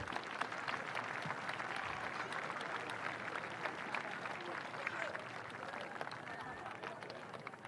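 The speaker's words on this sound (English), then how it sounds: "I'd just like a round of applause for Duhallow and their achievements this year." A crowd at the 2019 Cork senior football final between Nemo Rangers and Duhallow keeps up a faint, distant wash of steady clapping throughout, even and unbroken.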